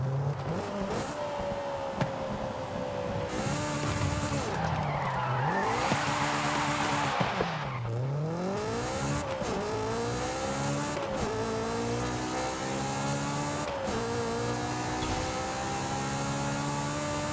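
Tuned car in Forza Horizon 5, making more torque and hitting VTEC hard with a 10-speed gearbox, engine revving loudly and climbing through gears, with tire squeal mixed in over a sustained, close, unbroken drone.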